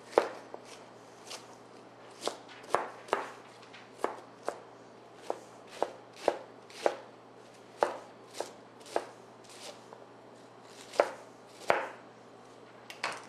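A knife chops cabbage for coleslaw on a cutting board, about twenty crisp, close strikes in an uneven but steady rhythm, with no talking.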